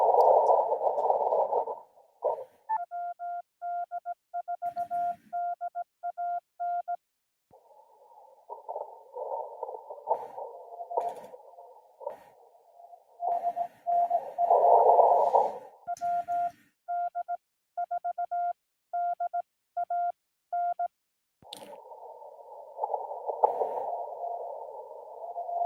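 Weak amateur radio Morse code from a station in Washington State, received at a park during a Parks on the Air outing, sent at about 17 words a minute as steady beeping dots and dashes over a hissing band of static that swells and fades.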